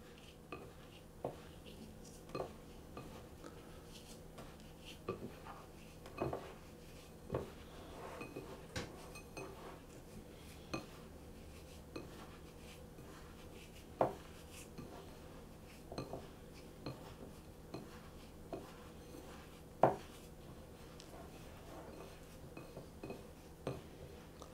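Cinnamon and a pinch of nutmeg for Dutch apple pie stirred in a bowl, with a steady run of light, close clinks and scrapes of a utensil against the dish and no speech.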